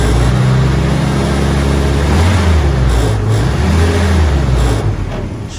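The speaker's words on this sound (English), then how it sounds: "She runs real nice with that throttle push down." A restored Willys CJ2A Jeep engine of about 55 horsepower revving under throttle, a loud, close, rough mechanical roar with rising and falling pitch that eases off at the end.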